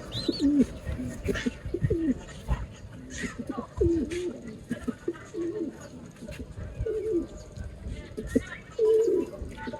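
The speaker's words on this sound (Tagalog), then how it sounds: "Itong mga ibon na to mga kalapatids, magkabila." Racing pigeons coo repeatedly in soft, low warbling phrases over a busy background of rustling and fluttering, with other birds chirping faintly.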